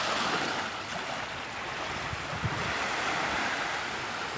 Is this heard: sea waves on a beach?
yes